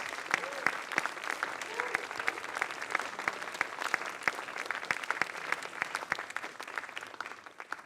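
Applause from the audience at the JANUS award ceremony 2024 after the FullDome Short Award winner is named, a dense, steady patter of many hands clapping throughout with no voices, tapering slightly at the end.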